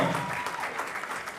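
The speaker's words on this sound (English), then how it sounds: "Clap it up for them. Come on, give them a round of applause." Audience applause at a dance company performance, a steady broad wash of clapping from a crowd that holds at even loudness for a short stretch without any words spoken.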